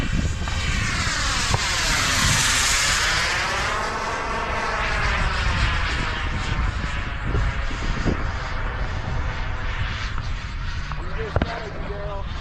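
An RC model airplane, a Delta 40 or Piranha PNP, drones steadily with a sweeping, pitch-shifting engine whine as it passes overhead at a birthday flying party, while people talk and cheer nearby.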